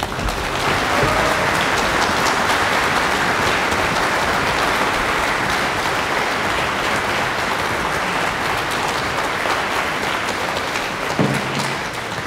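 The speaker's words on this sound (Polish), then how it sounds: "Brawa dla kapeli." Concert audience in Poland applauding the band after a piano performance, a loud, dense, rain-like wash of clapping from a large crowd sustained without a break, a brief low thump near the end.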